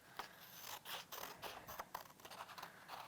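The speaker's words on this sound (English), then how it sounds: "So I'm going to take my scissors." Quiet, close snipping and scraping as scissors cut out a drawn circle from paper in a series of short irregular strokes.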